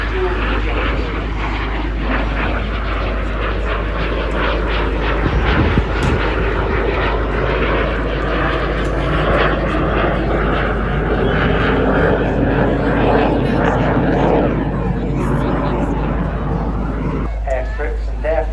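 A BAC Strikemaster jet with an uprated Rolls-Royce Viper turbojet flies at an airshow, its loud, steady engine roar shifting slowly in pitch as it passes. A commentator talks over the roar.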